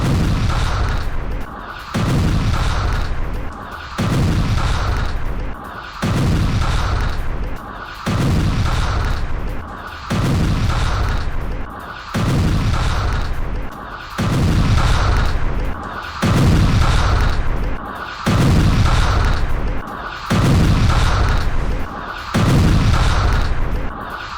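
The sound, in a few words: missile strike explosions, bombardment in Khan Younis, Gaza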